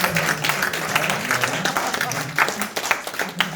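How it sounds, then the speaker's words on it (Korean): A church youth group bursts into sustained applause for high school seniors, dense clapping filling the room at close range, with a low murmur of voices beneath. "우리 수고했다는 경례 박수"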